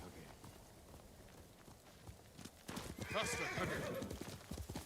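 Horse hooves clip-clop in a video game, with a whinny, the pace picking up toward the end while a person talks over it.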